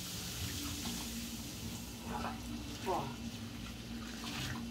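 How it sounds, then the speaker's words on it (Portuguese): Hot water poured into a clogged sink drain, draining with a soft running, gurgling wash under a steady background hiss, with brief splashy bursts; a voice speaks briefly. "Pode ver que já está escorrendo rapidinho a água."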